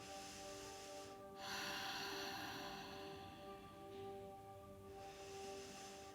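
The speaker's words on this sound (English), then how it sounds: "as you exhale, there's this snoring Darth Vader noise" Slow, deep ujjayi yoga breaths drawn and released with a raspy, hollow hiss, exhaling through the nose, close and quiet, in long steady cycles.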